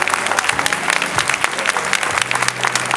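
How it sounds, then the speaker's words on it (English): Audience applause at a Mother's Day luncheon fashion show, dense steady clapping from a room of women lasting throughout, loud and close with faint voices mixed in. "Let's give them another round of applause, ladies."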